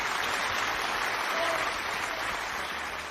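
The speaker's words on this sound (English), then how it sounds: "Give yourself a round of applause." A studio audience on a British radio or panel quiz show breaks into a round of applause, a dense, steady wash of clapping that holds at even strength for about three seconds.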